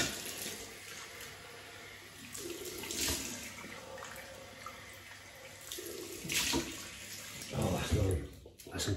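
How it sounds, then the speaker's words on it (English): Cold water runs from a tap during a shave rinse with an uneven splashing rush, fairly quiet, swelling louder near the end. "Another cold water rinse."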